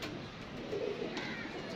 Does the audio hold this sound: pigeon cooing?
yes